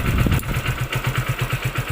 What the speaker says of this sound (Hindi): इंजन का चाल दब रहा है, जबकि अभी चाल स्पीड ज़्यादा रहना चाहिए था